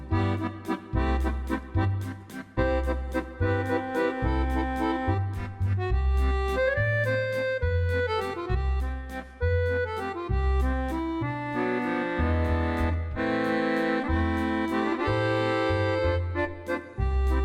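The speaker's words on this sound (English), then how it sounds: "the digital Roland accordion, ladies and gentlemen, and we're going to make it sound like this." A digital Roland accordion plays a lively tune with a bouncing bass-and-chord pattern and melody above, loud and continuous with no voices.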